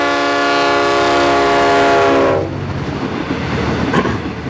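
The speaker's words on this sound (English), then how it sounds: "you'll know that trains whistle a lot." A loud, sustained train horn blares for a couple of seconds in Victoria, then cuts off, leaving rumbling rail noise and clatter of a passing train.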